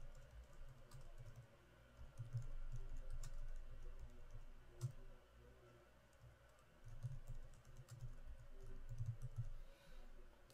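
Quiet typing on a computer keyboard while entering a configuration annotation, soft steady keystroke clicks in bursts with a short pause midway, no talking.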